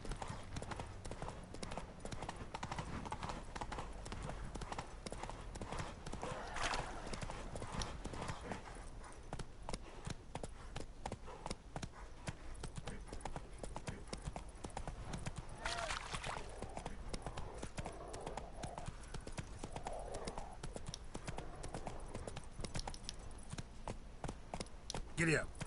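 Roach the horse gallops along in Witcher 3, with a fast, steady clip-clop of hooves running the whole way and a voice speaking over it now and then.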